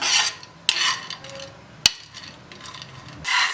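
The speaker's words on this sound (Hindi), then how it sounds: "मेवे हमारे हल्के हल्के धीमी आंच पे रोस्ट हो रहे हैं।" Chopped chironji and cashews roast in ghee in a kadhai over low heat. Bursts of spatula scraping are broken by two sharp metallic clinks, with quieter pauses in between.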